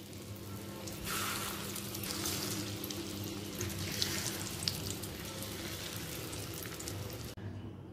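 Battered catla fish roe fritters frying in hot oil give a steady, dense sizzle with bubbling crackle throughout, close and fairly loud, with no voices.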